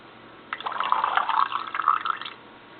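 Wine gurgles and splashes as it pours through an aerating pourer into a glass, a close, steady bubbly stream lasting about two seconds that starts and stops abruptly.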